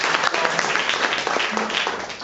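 A live audience breaks into steady, dense applause that fills the whole stretch at an even, fairly loud level, with a few faint voices mixed into the clapping.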